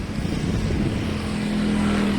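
Motorized tricycle passing on a road at sunset, a steady droning engine hum that holds close and grows slightly louder near the end, with no talk over it.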